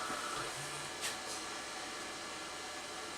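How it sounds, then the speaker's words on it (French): A steady, whooshing cooling-fan hum from an Auna LED-6 LED video projector runs throughout at moderate volume, with a couple of faint clicks near the start. "le ventilateur du vidéoprojecteur là, il est un petit peu plus bruyant"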